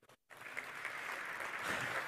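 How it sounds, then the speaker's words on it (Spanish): Audience applause at a business technology forum welcomes a panelist, beginning after a brief gap and building into a steady, fairly distant round of clapping. "Un fuerte aplauso para él."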